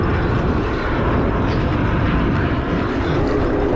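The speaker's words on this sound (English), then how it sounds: "Plane coming in for landing." Air Canada passenger airplane on its landing approach, a steady broad engine roar that stays loud and continuous throughout with no talk over it.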